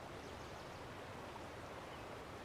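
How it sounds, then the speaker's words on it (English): A waterfall in a video game's winter update area rushes as a steady, even wash of water noise, faint and unbroken, with no voices. "Okay, so there's a waterfall here."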